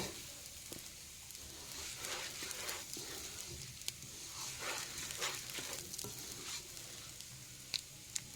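Rice and lentils for khichuri being stirred and fried in a pan, a soft steady sizzle with scraping strokes of a spoon, faint and close.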